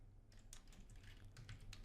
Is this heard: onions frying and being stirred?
no